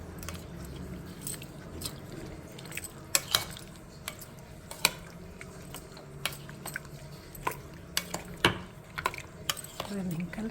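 A spoon stirs a sweet lemon pickle mixture, giving scattered sharp clicks and wet, squishy scrapes against the container at an uneven pace, quiet and close.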